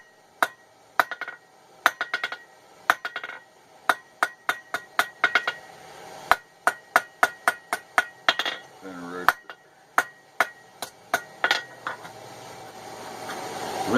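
A hammer forges miniature blacksmith tongs, striking metal in a long series of sharp, ringing clanks at an uneven working rhythm, loud and close with short pauses between blows.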